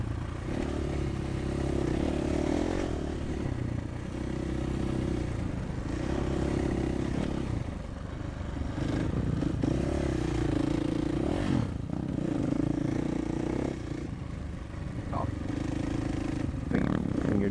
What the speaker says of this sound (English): bikes are nice and easy to accelerate on